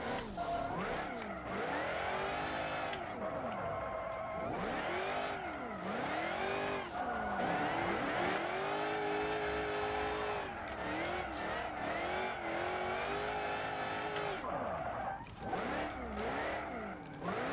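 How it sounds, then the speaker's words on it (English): BeamNG.drive car drifting, with repeated swooping engine revs and sustained tire squeal sweeping up and down through long slides, loud and continuous with no talking. "these are the settings that I use for Beamngdrive to be able to drift like this"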